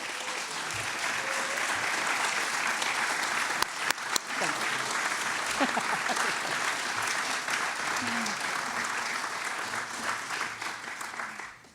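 A gala audience at the Tipp City Chamber holiday awards night applauds the Young Professional of the Year recipient, with dense, steady clapping that fills the room and runs the whole time before fading at the end.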